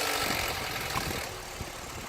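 A Vauxhall car engine idles after a timing chain and tensioner treatment, giving a short, steady mechanical running sound with faint ticking.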